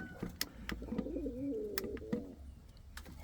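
Indian Fantail pigeon chicks cooing softly at close range, with short wavering coos over quiet rustling and a few sharp clicks.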